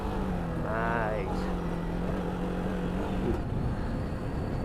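Ducati DesertX motorcycle engine droning steadily on an off-road hill climb, a rising rev partway through under wind noise while a voice talks over it.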